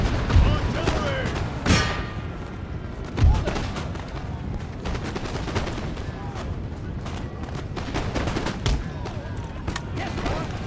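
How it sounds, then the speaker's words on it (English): Artillery fire on a battlefield: repeated deep booms and sharp blasts at irregular intervals, loudest near 1.8 and 3.3 seconds, over a dense, continuous rumble of gunfire with voices shouting in the mix. "Artillery."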